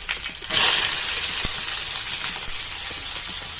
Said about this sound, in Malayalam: ഇനി ഇതിലേക്ക് സവാള ആഡ് ചെയ്ത് കൊടുക്കാം.